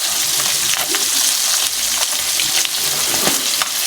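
Boiled, pressure-cooked chicken feet frying in hot oil, a loud, dense sizzle with sharp popping splatters throughout, continuous and close.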